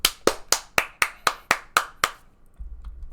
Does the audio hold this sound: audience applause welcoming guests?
yes